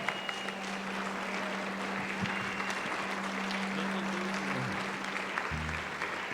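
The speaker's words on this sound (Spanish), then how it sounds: "¿Cuánto le dan un aplauso al Rey?" Congregation applause in a church, a steady, continuous wash of clapping heard from a distance with a low electrical hum underneath.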